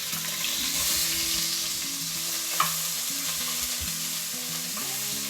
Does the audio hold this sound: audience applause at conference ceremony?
no